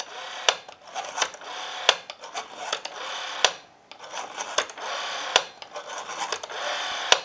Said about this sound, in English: We have a nice smooth return on our rotary now.